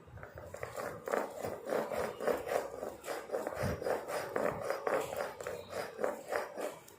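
Herbs ground by hand on a traditional ammi stone grinder, giving a steady rhythmic rubbing and rasping of stone on stone in repeated strokes, close and moderately loud, with no talking.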